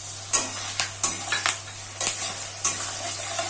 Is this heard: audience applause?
no